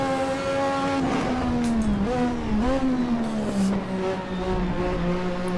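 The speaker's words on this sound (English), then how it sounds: "I'm gonna do this lap with throttle stabbing" A vintage race car engine in the Assetto Corsa racing game revs loudly and alone, its pitch rising and falling in short throttle stabs as it accelerates.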